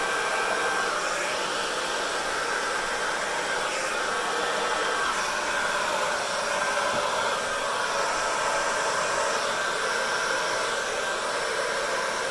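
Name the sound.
hair dryer blowing on curly hair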